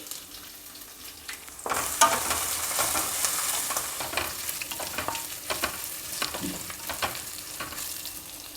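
Washed rice and moong dal dropped into a hot tempering of cumin, pepper, garlic, ginger and green chillies for pongal, giving a sudden loud sizzle followed by steady frying hiss and scraping stir strokes, with no talking.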